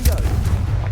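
A Confringo fire-blast spell from the Hogwarts Legacy video game, a short booming burst like artillery fire with a heavy low-end thump, loud and close, lasting under a second.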